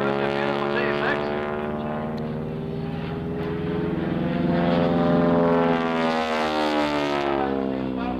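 A North American T-6 propeller plane drones steadily overhead during an aerobatic air show display, its loud, rough engine note swelling and fading slightly as it passes, with no talk heard.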